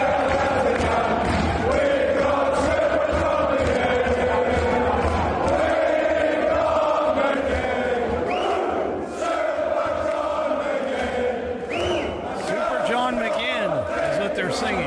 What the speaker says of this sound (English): this is what the fans do, what the Scottish fans do. They're singing.